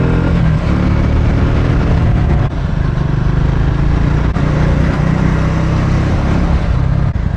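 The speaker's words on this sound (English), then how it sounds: "the Triumph Scrambler is eating the tarmac up" Triumph Scrambler adventure motorcycle riding on trails in India, its engine droning loud and steady throughout with a continuous close rumble and slight shifts in pitch as it rolls along.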